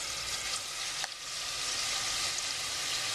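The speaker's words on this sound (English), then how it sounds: "you can hear it sizzling away." Butter and oil sizzle in a hot pan, a steady close frying hiss that fills the whole stretch with no voices over it.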